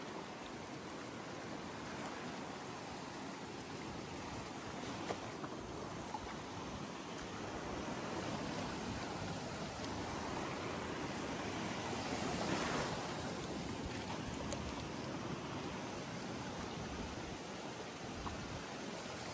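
Ocean waves wash steadily onto Boracay Island beach at high tide, a continuous broad roar of surf with a swell of louder breaking around the middle, with no voices present.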